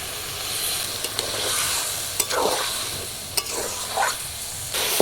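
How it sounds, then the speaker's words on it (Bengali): A thick spice paste sizzles in a pan for a fish curry while a spoon scrapes and stirs it in uneven strokes, close and fairly loud, with no voices. "মশলা দিয়ে একটু ভেজে নিয়েছি ভাজা হয়ে গেছে কষে নেওয়ার জন্য"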